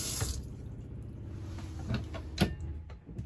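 Water runs from a tap inside a Swift Escape 674 camper van, a steady low wash carrying on through the moment with a few soft knocks and clicks from fittings nearby.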